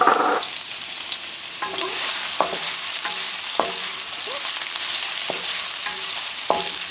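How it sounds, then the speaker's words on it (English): Garlic and ginger sizzle in a hot pan with a steady, bright frying hiss, punctuated by several short scraping clicks as the pieces are stirred. "I'm gonna throw in the garlic and ginger."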